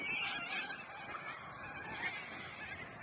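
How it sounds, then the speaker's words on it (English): A large flock of parrots, hundreds settled on grass near Point Peron in Rockingham, keeps up a dense, continuous chorus of harsh squawks and chatter from close by, with no voices. "So those parrots have settled on the grass there."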